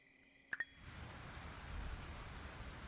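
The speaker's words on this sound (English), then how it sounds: "I heard that rain" Steady rainfall in the farming game Fields of Mistria, a soft, even wash of drops setting in after two quick clicks and holding at a moderate level to the end.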